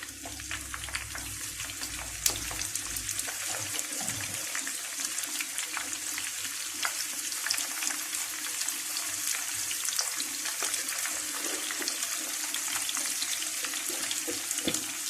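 Onions dropped into hot oil for Egyptian koshari, setting off a steady, close, continuous sizzling hiss that stays even throughout, with no talking.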